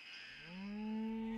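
A cow moos once, a long rising low call that swells and holds steady, fairly close and alone with no talking.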